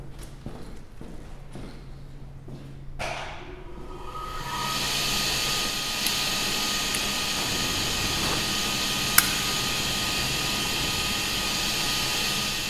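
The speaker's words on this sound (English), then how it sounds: "It's the regenerative air blower." A regenerative air blower spins up in a glassworking setup with torches and then holds a loud, steady broadband whoosh, with a few faint clicks in the background.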